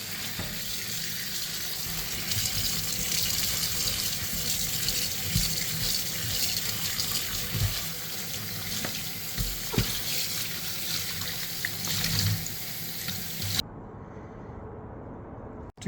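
Water runs steadily from a tap into a laundry sink or trough as a washing machine filter is rinsed under it, a continuous splashing rush with small knocks and clatters, ending abruptly, no talking.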